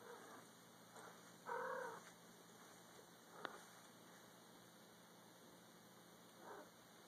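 A female cat in heat lets out a drawn, wailing caterwaul, moderately close, against a quiet room hum with a few faint thumps.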